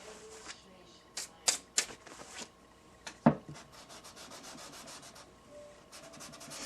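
Sanding on a Martin D15 acoustic guitar, a series of short scratchy rubbing strokes and brushes at irregular intervals, fairly faint and close, with a few sharper taps between them.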